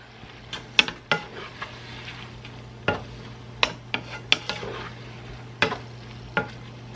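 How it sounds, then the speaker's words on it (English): A spoon scrapes and taps around a pan while brown sugar sauce is stirred, giving a string of sharp clinks over a low, steady cooking hiss, close and moderately quiet with no talking. "Stir this up."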